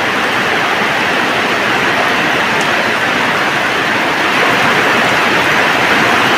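Heavy autumn rain pours down in a loud, constant broadband rush, even and unbroken for several seconds without any talk.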